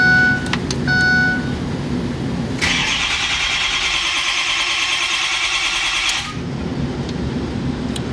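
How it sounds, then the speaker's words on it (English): A Ford F250 truck with a 6.0 Powerstroke diesel cranks and starts, a steady roughly three-and-a-half second whirring crank run close and loud, then cutting back to a low idle rumble. "we're gonna go ahead and start the truck up"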